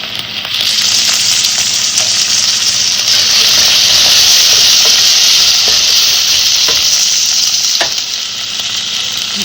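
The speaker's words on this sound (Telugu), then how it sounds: "ఇవన్నీ కొంచెం ఆయిల్లో వేగితే టేస్ట్ వస్తుంది." Carrots and other vegetables frying in oil in a pan, a steady loud sizzle with hissing steam and occasional stirring scrapes, running continuously without talk.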